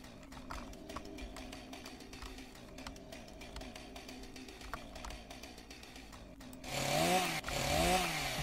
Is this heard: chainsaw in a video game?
yes